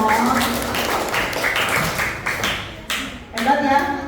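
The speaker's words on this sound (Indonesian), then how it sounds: "Kasih tepuk tangan dong." Classroom of students clapping for a group presentation, a close, uneven patter of hands with a few sharper slaps and brief pauses, voices faintly mixed in.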